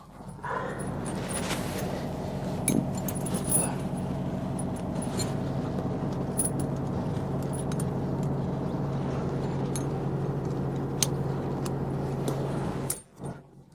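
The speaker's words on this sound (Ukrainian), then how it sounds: "ми почнемо з внутрішньої сторони шини і з'єднаємо ланцюг" Metal tire chains are joined on a truck tire, starting from the inner side, with continuous clinking and jangling of the links and a few sharper metallic knocks. There is no talking.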